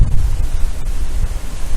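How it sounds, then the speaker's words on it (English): Strong wind buffets a microphone outdoors during a big storm, a loud continuous low rumble with gusting surges that lasts throughout, no voices. "Sorry about the wind, but it is very windy."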